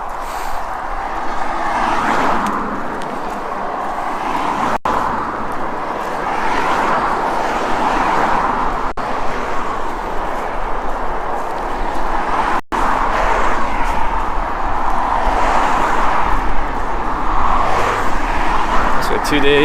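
Steady roar of cars driving past along a road in Norwich, England, close by and continuous, with passing vehicles swelling and fading and a voice talking over the traffic.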